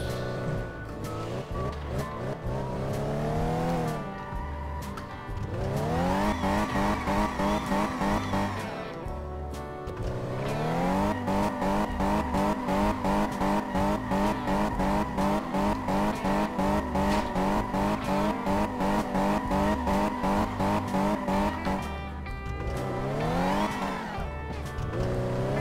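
A Mercedes-Benz 560 SEC driving in Car Mechanic Simulator 2015, its engine loud and close, revving up through rising gear sweeps, dropping between shifts, then holding a steady high drone before climbing again.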